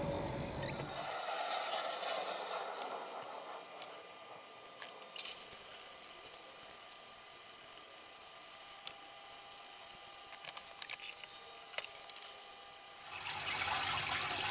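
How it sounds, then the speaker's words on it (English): Steady rushing of water pouring and flowing between tropical fish tanks for several seconds, continuous and fairly close, with a slight change in tone partway through and no voices. "I'm going to start transferring the water over to the other tank"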